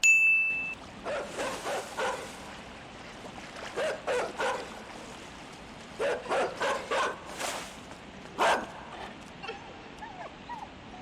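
Dogs in the video game Inside: a series of short, sharp barks and yips in uneven bursts against a quiet, low ambient background, some close and loud, others fainter, with no talk.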